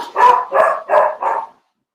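Dogs bark four times in quick, evenly spaced succession, loud and close, with no talk, then fall silent.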